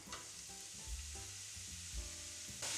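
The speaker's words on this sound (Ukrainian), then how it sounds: "Сковорідку наливаю олію і відправляю моркву." Carrots sizzle and crackle in hot oil in a frying pan, a steady hiss with occasional clatter of stirring.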